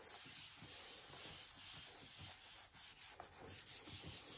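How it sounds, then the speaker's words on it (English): A hand rubs paper firmly onto a craft mount, making a continuous close scratchy friction with rhythmic strokes. The strokes grow more uneven toward the end. "I'm giving it a good rub"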